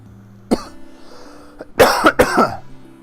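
Several harsh coughs and throat-clearing bursts in the video game Namco High, close to the mic, one brief hack followed by a cluster of rough coughs.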